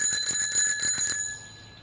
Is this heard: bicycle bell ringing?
yes